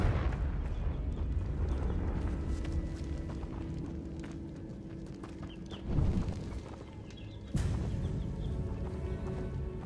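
A video game explosion spell goes off as a deep, rumbling low boom that fills the scene, with two sharper bursts swelling up near the end over continuous heavy noise.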